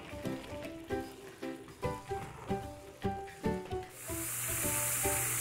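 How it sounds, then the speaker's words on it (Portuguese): Sweet potato chips drop into hot oil and a loud, steady sizzling hiss starts partway through. Before it, a run of rhythmic tonal pulses can be heard. "Pessoal, eu já tô fritando as batatinhas"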